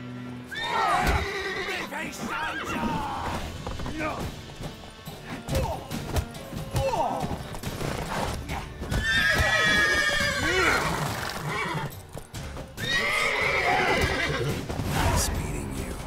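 Loud horse neighs and whinnies in the video game The Witcher 3: Wild Hunt ring out repeatedly, mixed with crashes, hoofbeats and shouting voices in a chaotic scene.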